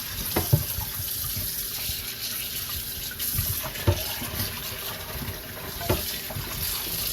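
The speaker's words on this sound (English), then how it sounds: "Now, I run cold water on them to rinse them off." Cold tap water runs steadily into a clean pot to rinse raw oxtail for Jamaican-style oxtail, a continuous close splashing with a few louder knocks and clinks of the pot.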